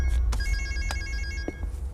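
A telephone rings with a repeating electronic tone over a low background hum, while short sharp knocks sound intermittently.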